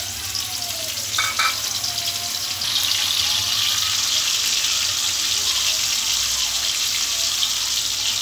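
Shrimp sizzling steadily in a hot pan during home cooking, a bright continuous frying hiss that grows a little louder partway through, with no talk.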